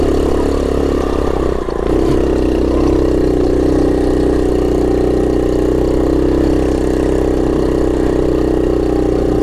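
A 1970 Honda Trail 70 labours up a rocky hill in second gear, its small engine droning loudly and steadily at close range, with no talk.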